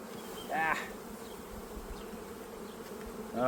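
Honeybees buzz around an opened hive as frames are pulled during a spring colony split, a dense close droning swarm with brief louder swells as bees fly past.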